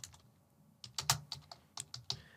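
Keys on a computer keyboard clack in short, irregular bursts as a short caption is typed, close and fairly quiet, with brief pauses between the clusters of keystrokes.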